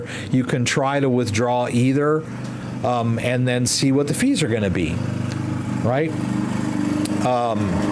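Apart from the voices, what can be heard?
lawnmower running outside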